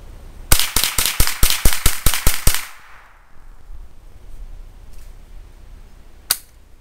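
Savage .22 Model 62/64 rifle with a front pistol grip fired rapidly at a target, about ten sharp, close, loud cracks in quick succession, then quiet with one faint later click.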